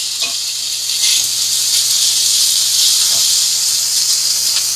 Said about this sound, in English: I'm going to go ahead and throw this over here in this hot skillet. Let it fry up good.